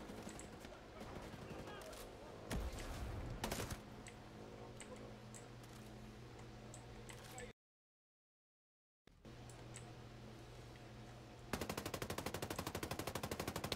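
Rapid gunfire in the tactical shooter Ghost Recon Breakpoint rattles in repeated automatic bursts, broken by a brief dead silence, then resumes with a fast, evenly spaced volley near the end.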